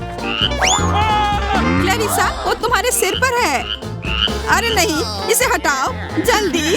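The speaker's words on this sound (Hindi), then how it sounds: "यह मेंढक है।" A frog croaks in a burst of rasping calls while people talk excitedly and loudly over it, close by.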